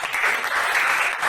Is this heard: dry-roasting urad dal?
no